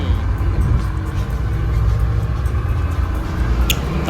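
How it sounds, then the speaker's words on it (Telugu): An old sleeper bus engine runs at a steady idle, a loud, continuous low rumble heard from close by with a faint rattle near the end. "ఈ ఇంజిన్ సౌండ్ వస్తా అదిగోండి వింటున్నారు కదా"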